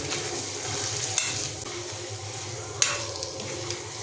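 A ladle stirs marinated soybeans through frying masala with cashews and melon seeds, a soft steady sizzle with a couple of sharp scraping knocks against the pan, close and without talk.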